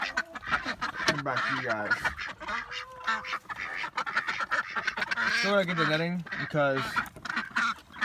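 Ducks in a backyard pen quack and honk loudly and repeatedly at close range, mixed with someone talking.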